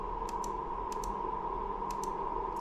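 A computer mouse clicks on a ship radar display, sharp light clicks arriving in quick pairs, close and distinct over a steady electronic hum, with no talking.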